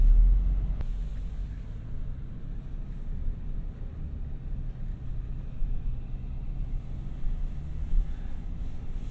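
A 2021 Range Rover Sport HST heard from inside the cabin while driving, giving a steady low road and engine rumble that holds even throughout with no talking.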